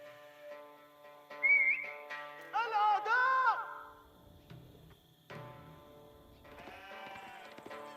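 Sheep in the Age of Empires game bleat a few times in quick, wavering calls, moderately loud in a quiet mix of in-game sounds, with a commentator talking nearby.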